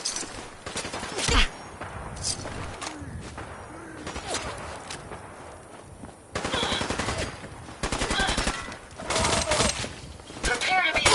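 Rapid machine-gun bursts and scattered shots fire in short, uneven volleys in a PS4 video game, loud and punchy, separated by quieter stretches with background game sounds.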